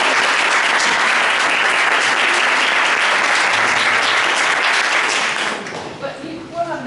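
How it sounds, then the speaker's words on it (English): Loud, dense applause from a workshop audience, a steady wash of many hands clapping that fades out near the end as a few sounds drift in. "Could you applaud again, please?"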